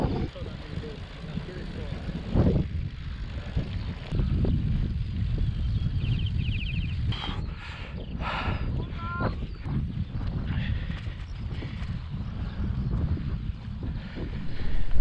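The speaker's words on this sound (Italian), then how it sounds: "L'alta quota, il vento contrario." A strong headwind blows at high altitude on Campo Imperatore, buffeting the microphone. The rumble is steady and blustery throughout, with occasional faint voices and clatter underneath.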